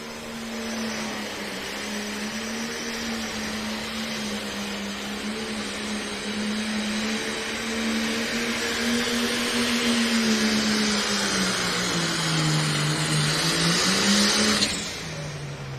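Air-cooled Deutz pulling tractor engine at a truck and tractor pull in Canton, Ohio, a loud sustained roar whose pitch slowly rises and falls as it works, cutting off sharply near the end.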